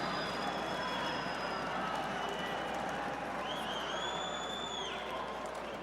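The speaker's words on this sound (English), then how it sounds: "The crowd loves that turnaround." Arena crowd at a women's -70kg judo bout at the 2013 World Championships, a steady roar of cheering voices with whistles rising over it, continuous and loud throughout.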